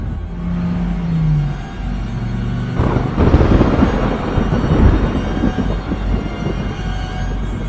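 Thunder on a stormy night swells from a low background drone into a long, heavy rolling rumble that lingers for several seconds, loud and broad, with no one speaking.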